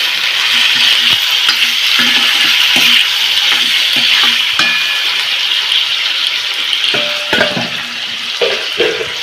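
Ingredients sizzle loudly in hot oil for a Chettinad dry fish curry, a steady bright frying hiss up close with repeated scraping stirs of a spoon against the pan and no voices.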